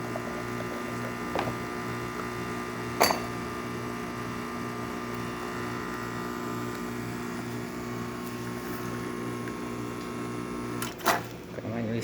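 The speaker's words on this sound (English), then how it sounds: "To start with one shot of espresso, we're gonna test the machine out." A Rocket espresso machine being tested as it pulls a single espresso shot, giving a steady low pump hum and drone throughout, with a few faint clicks and knocks.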